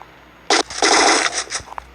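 Gunfire in the mobile shooter Free Fire comes as a short cluster of close, loud shots, a burst of rapid reports with a few trailing pops after a quiet start.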